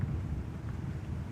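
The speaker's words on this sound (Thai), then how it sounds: "ขออภัยในเสียงลมนะครับ" Strong rainy-season wind buffets the microphone outdoors in a mixed garden with chili seedlings, making a steady, loud, low rumbling roar that fills the whole moment with no other sounds.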